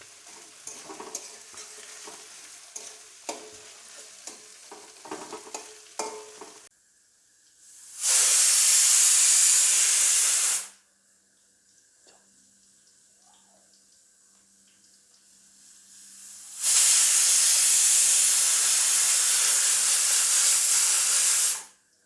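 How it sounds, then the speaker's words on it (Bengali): Onions frying and being stirred in a pan for a home-made langar dal: scraping stirring and light sizzle at first, then two long loud bursts of hissing sizzle with quieter frying between. "পেঁয়াজ অনেকটাই ভাজা ভাজা হয়ে গেছে,"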